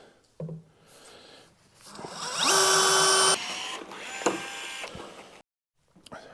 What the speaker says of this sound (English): Drilling some holes in here to put rivets in along the seam of the tube liner on the inside.